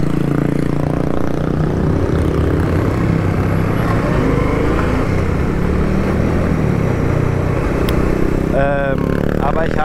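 Motorcycle riding through South America just after a chain change, making more noise than before, with a loud, steady engine drone and wind rumble throughout and a voice talking over it toward the end.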